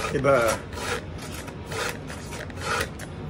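Metal file rasping across a slightly damaged saw tooth to sharpen it, about half a dozen short, even back-and-forth strokes heard up close.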